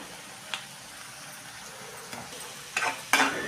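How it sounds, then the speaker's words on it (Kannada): Onion paste frying in oil in a pan for egg biryani, a steady soft sizzle with a few sharper stirring scrapes toward the end. "ಇವಾಗ ಉಳ್ಳಾಗಡ್ಡಿದು ಎಣ್ಣೆಯಾಗ ಫ್ರೈ ಆಯಿತು"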